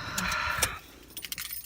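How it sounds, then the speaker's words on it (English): Car keys dropped onto a surface give a brief metallic jangle and clatter, followed by a few lighter tinkling rattles, close and fairly quiet with no talk. "And I just dropped my car keys."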